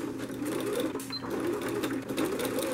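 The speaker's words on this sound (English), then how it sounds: "sew across until you get to the other end" A sewing machine runs steadily, stitching a separation piece across a channeled back seat cushion along a drawn line, a continuous close whir with a brief pause partway.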